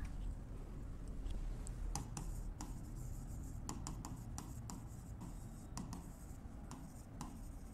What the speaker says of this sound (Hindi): लिख दो यहां पर।